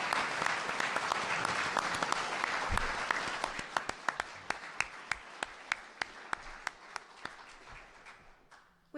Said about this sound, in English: Now's the time to clap.